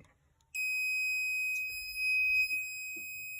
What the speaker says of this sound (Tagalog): Tapos long beep.